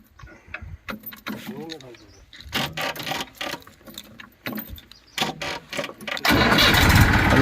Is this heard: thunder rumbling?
no